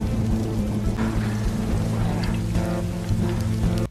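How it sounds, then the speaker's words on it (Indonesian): Steady rain falls around a rocky cliff, a dense continuous hiss of drops with low rumbling undertones, fairly loud and unbroken throughout with no voices. "Hujan mulai membasahi sekitar tebing itu."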